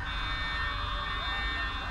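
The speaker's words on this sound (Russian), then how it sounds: "Сигнализация какая-то." A steady electronic alarm tone in the video game Poppy Playtime Chapter 3 drones at moderate volume under low background rumble, with faint murmuring alongside.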